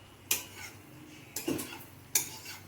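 A few scraping, clinking strokes of a utensil stirring Manchurian in a pan, spaced out with quiet pauses between them.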